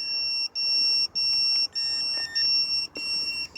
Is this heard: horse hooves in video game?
no